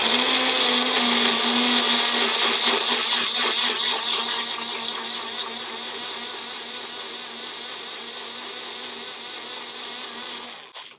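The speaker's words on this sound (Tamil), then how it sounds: "பிளெண்ட் பண்ணிவிட்டு கொஞ்சம் கொஞ்சமாக பிளெண்ட் பண்ணிடலாம்" A blender whirs loudly and steadily as it blends a green smoothie, its motor pitch holding high, then easing slightly lower after a few seconds before cutting off at the end.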